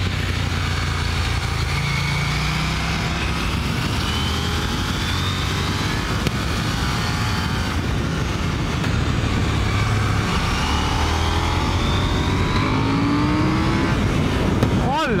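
A KTM 890 Duke R motorcycle ridden on twisty roads, its engine droning steadily and rising and falling in pitch with throttle changes, under constant wind rush, while the rider talks over it.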